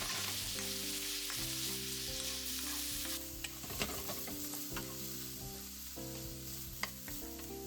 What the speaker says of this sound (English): Then I add Japanese leek, naganegi. Stir-fry it.